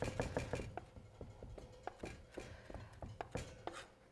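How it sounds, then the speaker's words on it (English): Garlic scraped into a paste with the back of a knife, a close series of short rasping strokes on a cutting surface, fairly quiet, with no talk. "take the back of your knife and run it down, and look, you have paste"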